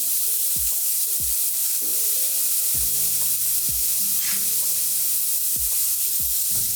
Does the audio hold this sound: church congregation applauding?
no